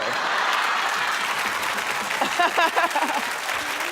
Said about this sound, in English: And they're only clapping because they want to be seen on the TV.